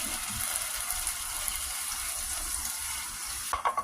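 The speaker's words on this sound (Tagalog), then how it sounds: "Lagyan natin ng tubig." Water is poured into a pan where a dish with buro, pepper, chili powder and sugar is sautéing, giving a steady close hiss and sizzle that runs throughout, with a few clinks near the end.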